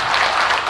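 Audience clapping at a health talk by a cardiologist, a dense burst of hands heard at moderate level over a very brief moment.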